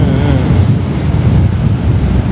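Ocean waves wash steadily onto a beach with a constant loud roar, and wind buffets the microphone throughout. No talk is heard.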